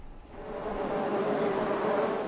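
A steady swarm of bees hums around an Ethiopian beekeeper, a low continuous buzz that swells slightly and holds close and fairly loud with no voices.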